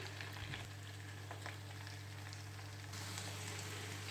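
Okra frying in a pan gives a faint, even sizzle and crackle throughout, steady and close under a low background hum.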